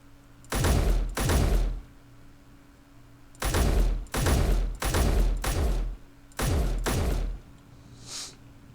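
Heavy gunfire in the Space Engineers video game, aimed at a turret, comes in three volleys of deep, loud booming bursts separated by short pauses, with no voices over them.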